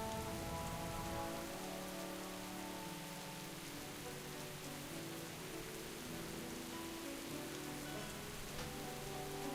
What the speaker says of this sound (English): Very loud rain.